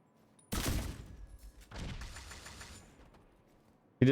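Gunfire and sticky-bomb explosions from the Division 2 video game, two sharp booming bursts with decaying rumble, a quiet gap between them and another hit cut off at the end.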